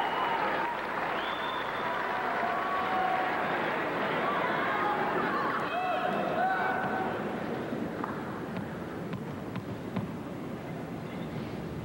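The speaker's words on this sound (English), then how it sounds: "The crowd is a little noisy now." Restless crowd noise at a men's tennis match fills the arena, a continuous bed of murmuring, shuffling and scattered calls, with a few voices and whistles standing out briefly before the din eases slightly toward the end.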